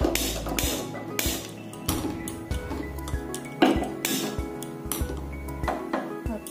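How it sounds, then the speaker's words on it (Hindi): A kadhai (wok) clanks onto a gas stove, with repeated metallic knocks and clinks of cookware spread through the clip over a steady low background hum, and no talking. "कढ़ाई बैठाते हैं"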